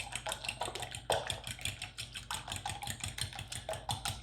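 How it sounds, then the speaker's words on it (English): A fork whisks eggs in a bowl, quick rhythmic clinking taps against the sides, light and close, continuing steadily with no talk. "I usually use a fork because I don't need to turn the eggs into froth"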